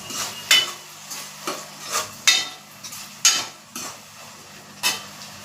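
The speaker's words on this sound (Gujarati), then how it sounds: "ટામેટું એડ કરીને બરાબર મિક્સ કરી લેશું" Chopped tomato stirred into hot oil in a frying pan for a dhaba-style spinach curry: a light sizzle underneath with about eight separate scraping strokes of a spoon against the pan, close up, with no talk.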